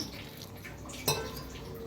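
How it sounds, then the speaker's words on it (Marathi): Gram flour batter for boondi is stirred with water in a bowl, a wet clatter and dripping under soft kitchen noise, with one sharper clink of utensil against the vessel partway through. "थोडं थोडं पाणी वतून मिक्स करून घ्या गाठी अजिबात नको आहेत"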